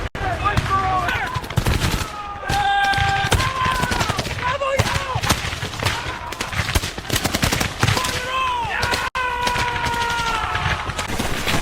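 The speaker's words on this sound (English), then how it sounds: "delivered precise volleys that slowed Forrest's advance" Rifle volleys and scattered gunfire at a Civil War battle reenactment crack loud and repeatedly through a musical score, with shouted voices mixed in.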